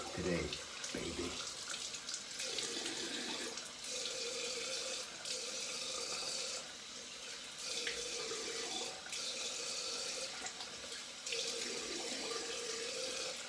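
Cold tap water runs steadily into a sink for a rinse after shaving, a continuous close splashing flow with small shifts as hands move through the stream.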